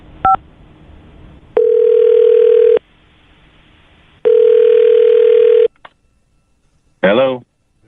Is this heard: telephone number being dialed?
yes